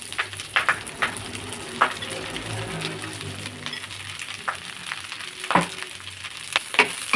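Drumstick leaves frying in a pan, an even sizzle with stirring and scraping strokes from a spoon against the metal and a few sharp clinks, close and without talk.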